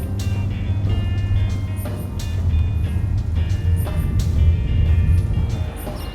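A rental car drives away from Geneva airport toward Lausanne, giving a steady low engine and road drone throughout with a few faint voices in the cabin.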